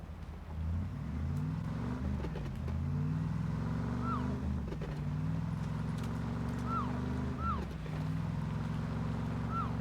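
A police car drives in the PUBG video game, its low engine drone running steadily throughout, with a few faint high chirps over the top.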